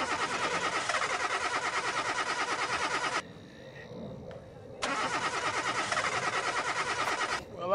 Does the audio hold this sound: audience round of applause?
no